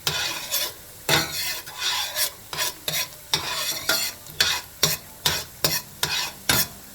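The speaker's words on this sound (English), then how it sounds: "I'm gonna add my garlic. Saute that like maybe a minute," Garlic added to onions already cooking in a pan, sautéed and stirred, giving repeated short scraping stir strokes over a steady sizzle, close and fairly loud, with no talking.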